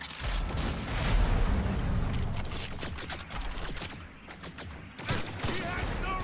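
Rapid gunfire in the video game Cyberpunk 2077, a dense barrage of shots rattling continuously for several seconds, briefly thinning before another loud burst near the end.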